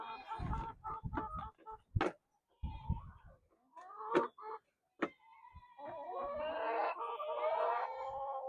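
Several chickens cluck and squawk in a coop, close by: a string of sharp, uneven calls with short gaps, then a longer run of steady, overlapping clucking.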